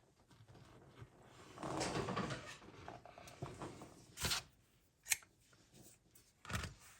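Scissors snipping crochet yarn after slip stitching: faint rustling and handling, then a few sharp, close snips spaced apart, alone with no talking.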